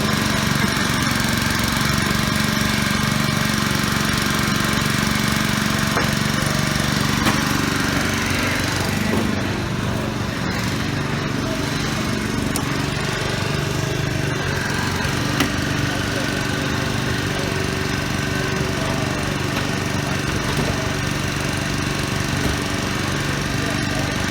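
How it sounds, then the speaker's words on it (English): Firefighters' rescue tool cuts through a car's rear seat post during a mock crash extrication, a loud, continuous engine and hydraulic drone with people talking over it. "Right now we're cutting the rear seat post on the passenger side"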